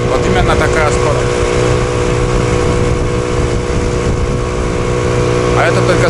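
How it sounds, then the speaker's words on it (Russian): Suzuki 6 outboard motor drones steadily at medium revs, pushing a loaded boat along a river, loud and close with an even tone throughout, with faint talk underneath. "у меня средние обороты. И такая скорость на Suzuki 6"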